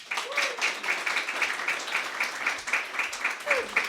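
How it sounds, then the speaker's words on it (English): An audience claps at a live event, a fairly sparse, moderately loud patter of hands continuing steadily for several seconds with voices faintly underneath. "Everybody clap for Kandace Kyere"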